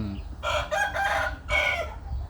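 A young gamecock rooster crows nearby, a loud, broken series of hoarse bursts with short gaps between, ending in a longer final call over faint background noise.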